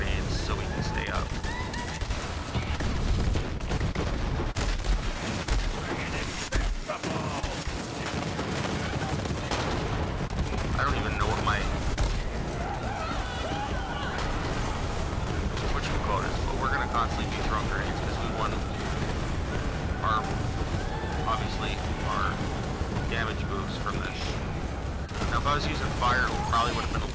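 Sustained video-game combat with steady automatic gunfire and scattered explosions, grenades among them, rolls on underneath a voice talking over the action.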